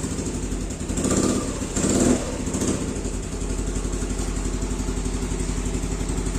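An old motorcycle left unused for a long time, its engine sputtering unevenly with a couple of brief revs early on, then settling into a steady, slightly rough idle close by.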